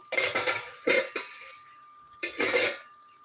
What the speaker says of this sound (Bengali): দু মিনিট হয়ে গেছে আমি এবার ঢাকনাটাকে সরিয়ে দিচ্ছি